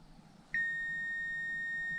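A multimeter in continuity mode gives a single steady electronic beep. The tone starts sharply and holds without a break, close and clear over a quiet background, during a diagnosis of a 1999–2005 Lexus IS200 misfire.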